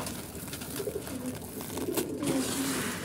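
Pigeons in a loft coo continuously while being fed small portions of grain, several birds making low, overlapping rolling calls nearby against a steady background hiss.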